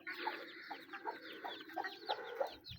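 A hen clucks repeatedly in short rhythmic bursts, close by, with faint high peeping from chicks around her.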